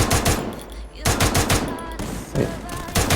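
Rapid automatic gunfire from a 4v4 ranked match in the mobile game Free Fire rattles out in several loud, dense bursts separated by short pauses.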